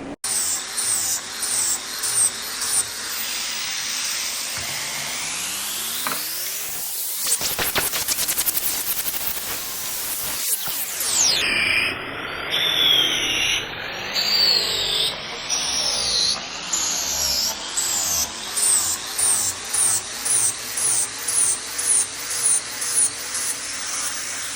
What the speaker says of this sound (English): over to the grinder, start grinding it down